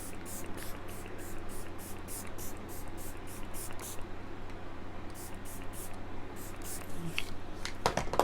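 An e.l.f. Stay All Night Microfine setting spray mists in a rapid series of soft, hissy pumps, one after another, with a short pause before a second burst of sprays, faint over steady room noise.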